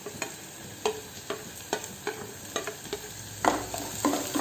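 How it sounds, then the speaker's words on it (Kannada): Green chili and ginger sautéing in a pan, with a soft steady sizzle under repeated close spatula stirs and taps, a regular scraping rhythm and a louder clatter near the end, no voices. "ಇದನ್ನು ಹಾಕಿ ಸ್ವಲ್ಪ ಬಾಡಿಸ್ಕೊಳ್ತಾ ಇದ್ದೀನಿ"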